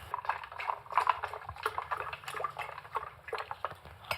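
Sanitarium coconut milk pours into a blender for a morning smoothie, a close, uneven liquid stream with small splashes and drips running steadily for a few seconds.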